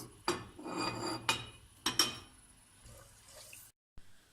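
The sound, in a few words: toasting almonds in a pan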